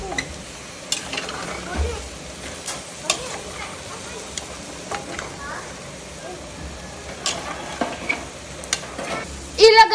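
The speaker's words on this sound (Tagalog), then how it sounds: "Ito, haluin natin." Food frying in a pan is stirred, giving scattered scraping and clattering strokes over a faint sizzle, close and moderately loud, with short bursts of handling noise near the end.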